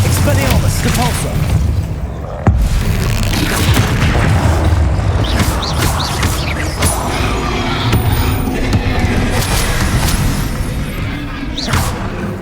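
Booming spell blasts, whooshes and crashes from Hogwarts Legacy combat in a dungeon raid, dense and continuous with repeated loud impacts over a heavy low rumble and the player speaking spell names throughout.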